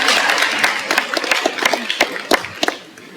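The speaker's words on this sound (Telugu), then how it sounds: "చప్పట్లు కొట్టండి." Applause from a school ceremony audience, a dense patter of many hands clapping that builds, thins into scattered claps and fades away, with no voices over it.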